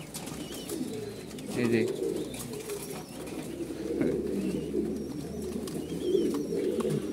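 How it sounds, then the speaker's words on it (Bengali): Pigeons at a fancy pigeon farm, crowding eagerly for grit, coo steadily with bursts of wing flapping throughout, fairly close and busy, while a voice speaks briefly. "কবুতরের গিট খাওয়ার জন্য পুরা পাগল।"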